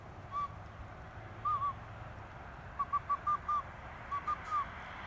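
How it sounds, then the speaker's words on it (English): A survival whistle is blown outdoors in short tweets: a single blip, a pair, a quick run of five, then three more, each clear and piercing over a low background hum. "just take your trusty survival whistle and just"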